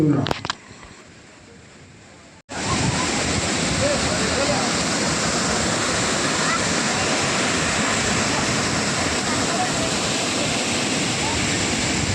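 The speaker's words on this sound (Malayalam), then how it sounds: "അങ്ങനെ ഇനി ആരും ആതിരപ്പള്ളി വെള്ളച്ചാട്ടം കണ്ടില്ല എന്ന് പറയരുത്" Athirappilly waterfall in Kerala: after a brief quieter stretch with talk, a powerful, steady roar of falling water sets in and continues loud and unbroken.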